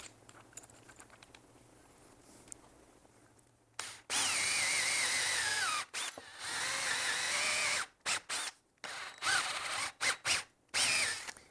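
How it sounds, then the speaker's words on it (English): An electric drill fitted with a 3/8 inch bit bores a hole in pine wood, whining loudly in several long bursts that stop and start, with brief pauses between them after a quiet stretch. "We'll chuck that up and start drilling."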